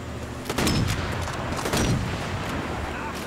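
Gunfire from a shotgun-type weapon in the video game Sniper Elite V2 Remastered: two heavy blasts about a second apart over a constant battlefield rumble.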